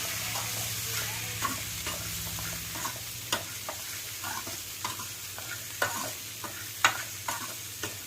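Okra sautéing in a pan with salt and turmeric for vendakkai puli kulambu, a steady soft sizzle with frequent light scraping and stirring clicks from a spatula, close and moderately quiet, no voices.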